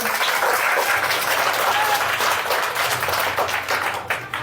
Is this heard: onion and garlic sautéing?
no